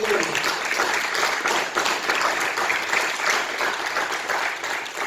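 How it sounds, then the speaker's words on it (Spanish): A church congregation applauds in a steady wash of clapping that holds at an even level for several seconds, with a few voices mixed faintly into the crowd noise. "Un aplauso al Señor, sí,"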